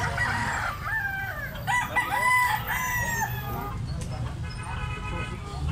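A gamecock crows with strained, rising calls while hens cluck nearby, under a steady low rumble and some background voices.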